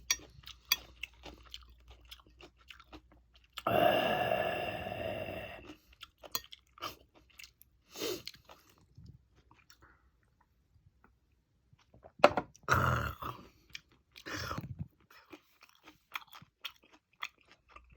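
Someone up close chews chewy pork belly (samgyeopsal) meat, with two distinct bursts of wet, crunchy mastication separated by quiet pauses and softer mouth sounds.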